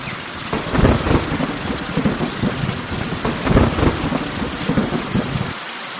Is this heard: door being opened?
no